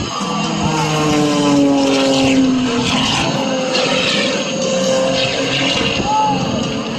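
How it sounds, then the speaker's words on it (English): Airplane taking off at the Great Bend Airfest doing three snap rolls: a loud engine roar rises and falls with shifting pitch, heard close. An announcer talks over it. "with 3 snap rolls on takeoff, Mike Spanky Galloway is up."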